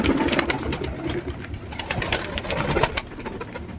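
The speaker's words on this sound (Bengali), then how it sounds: "এই পায়রাটি খায়নি, পায়রাটি একটু অসুস্থ আছে।" Pigeons coo softly inside a loft where one bird is ill and has vomited, the low calls blending with a steady rustling background.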